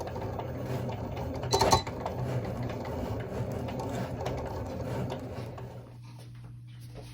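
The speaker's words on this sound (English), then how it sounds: "I'm going to send it to my Cricut" A Cricut cutting machine cuts a white permanent vinyl graphic, producing a steady, soft motor hum with a brief rattling clatter partway through, heard close and alone.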